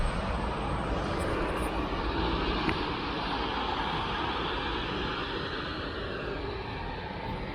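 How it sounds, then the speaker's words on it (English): A passing train rumbles nearby as a steady, loud, broadband roar that holds almost unchanged for several seconds, with no voices. "It's coming a train again, making a lot of noise up here."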